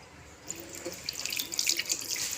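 Hands are rinsed under a running kitchen tap, water splashing steadily into the sink and growing louder partway through, close by with no talking.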